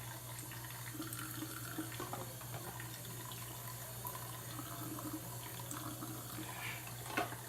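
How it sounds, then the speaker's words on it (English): Faint water from a bathroom tap running or dripping just below, a soft steady wash over a low constant hum, with no talking. "Sorry if you hear the water dripping, I have the water like right under me."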